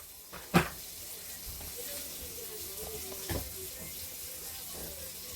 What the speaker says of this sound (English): And the stern is now starting to slowly lower into the water.